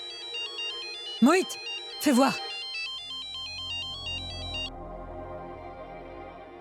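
A mobile phone ringtone plays as a bright repeating electronic melody for several seconds, briefly under two short spoken phrases, then cuts off as low background noise continues.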